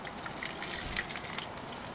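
Onion drops into smoking-hot mustard oil at a camp in Kashmir and sizzles with a bright, continuous hiss that swells and then eases, heard up close with no talking.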